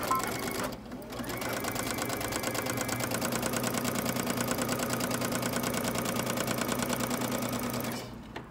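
A sewing machine stitches a side seam on shorts or pants, a loud, steady rapid needle clatter running continuously for several seconds before stopping, with backstitching at the seam ends.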